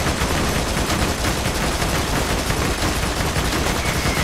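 Gunfire in the video game On the Border of Glory: a dense, unbroken stream of rapid shots filling the whole stretch at steady loudness, close and harsh, with no voices.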